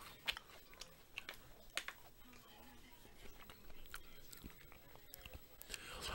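Quiet chewing of a Kit Kat blueberry muffin, soft crunchy bites and mastication scattered irregularly, close to the mouth, with faint talk in the background.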